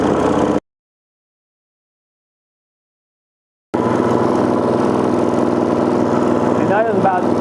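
A Gen II four-stroke engine idles at about 2,500 rpm after carburetor tuning, running steady and close, with a sudden cutout mid-clip before the drone resumes.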